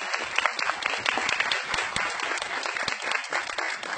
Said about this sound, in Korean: 여러분 큰 박수 한번 부탁드립니다.